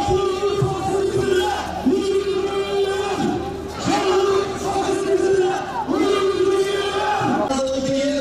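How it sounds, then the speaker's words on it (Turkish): A large crowd at a Kurdish political rally shouts and cheers in loud rhythmic chanted bursts, voices rising and falling together in repeated waves, close and full. "Sizlerden ricamız bu kuvvetli alkışlarınızı zaman zaman eksiltmeyin."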